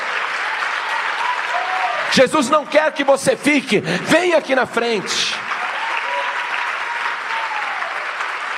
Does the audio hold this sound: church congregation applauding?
yes